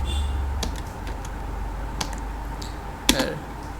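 Keystrokes on a computer keyboard while typing a story prompt into an AI tool, a sparse run of separate clicks with one sharper tap near the end, close over a steady low hum, no talk.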